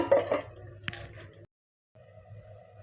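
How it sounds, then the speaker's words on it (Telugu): A lid is set onto a kadai in which capsicum is cooking for kadai paneer, giving a single sharp metallic clink amid quiet kitchen clatter, followed by a short pause. "నేను ఇలా ఇప్పుడు మూత పెట్టుకొని మనము ఒక రెండు నిమిషాలు ఉడకనిద్దాము"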